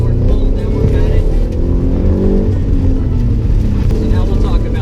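A car accelerating at full throttle through a slalom, the engine droning loud and steady and close, with continuous low rumble and tire noise throughout, a voice faintly present beneath.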